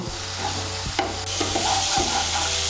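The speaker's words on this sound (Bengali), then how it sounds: "মশলাগুলোকে ভালো করে মিশিয়ে নিয়ে আমি মশলাটাকে ভালো করে কষিয়ে নেব" Spice paste stir-fried in a pan for a curry with egg, potato and soya chunks, a continuous sizzle broken by a few scraping strokes of a spoon, close and fairly loud with no voices.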